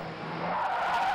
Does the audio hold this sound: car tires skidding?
yes